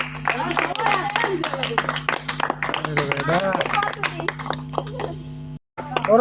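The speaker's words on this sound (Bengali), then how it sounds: "সবাই একটা বড় হাত তালি দেবা" Family and friends at a picnic prize-giving clap for a winner, a steady patter of hand claps running throughout under loud talk, with a brief dropout near the end.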